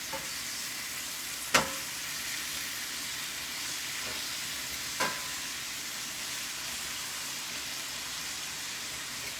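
Apples and bacon caramelize in a pan over medium-high heat, a constant close sizzle and hiss with two sharp utensil knocks against the pan and one softer tap, no one speaking.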